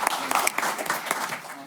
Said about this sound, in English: One more round of applause for Yvonne.